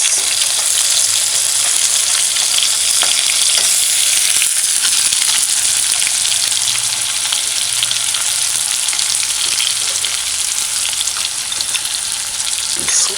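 Onions frying with Spam luncheon meat in a hot pan, a loud, dense, continuous sizzle up close with a few faint stirring knocks and no talking.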